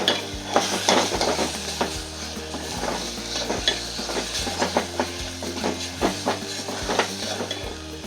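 Ground masala paste roasting in hot oil for Kolhapuri chicken rassa sizzles steadily throughout, broken by repeated clacks and scrapes of a spoon stirring against the pot at an uneven rhythm, fairly close.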